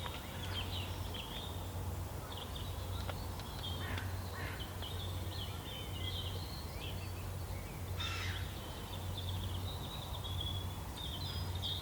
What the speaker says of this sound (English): them seagulls are a pain in the arse